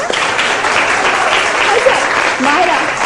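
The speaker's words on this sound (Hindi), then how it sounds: "तालियां बजा दो, हाँ." Studio audience on a Pakistani morning talk show breaks into loud, continuous applause, a dense wash of clapping that stays level throughout, with faint voices mixed in.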